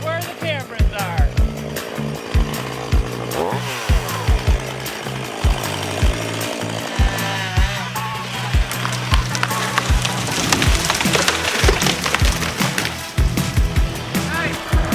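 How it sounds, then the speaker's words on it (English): A chainsaw mill cutting through logs to flatten them for the base of an off-grid tiny house, a loud, steady buzzing roar with repeated sharp knocks and bursts as the cut goes on, while a voice talks over it now and then. "Now we just gotta flatten them up. I got my chainsaw mill."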